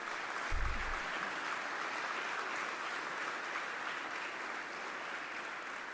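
Audience applause after a speech at a podium, a steady wash of clapping from a crowd, distant and even throughout.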